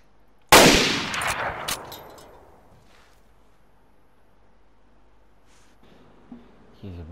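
A single sharp sniper rifle shot in the survival game DayZ cracks loudly and rolls off into a long fading echo, followed by quiet with a few faint clicks and movement sounds.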